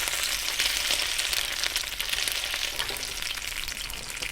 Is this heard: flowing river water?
no